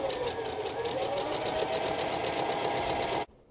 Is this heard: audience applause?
no